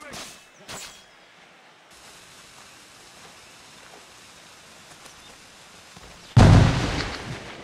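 Grenade explosion in Assassin's Creed IV Black Flag, a loud sudden blast near the end after a stretch of quiet ambience and a few faint knocks.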